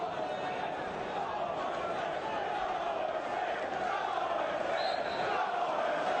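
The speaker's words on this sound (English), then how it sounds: "good vocal backing from the travelling Wednesdayites behind the left-hand goal here, cheering them on" Travelling Sheffield Wednesday supporters cheer and chant from behind a goal at Oldham Athletic's League Cup tie, a steady dense crowd roar that holds throughout with match commentary talking over it.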